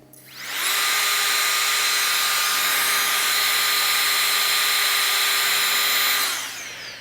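A Nitecore BlowerBaby portable electric air blower spins up to a loud, steady high-pitched whine with airy rush, holds for several seconds, then winds down, heard alone with no talking.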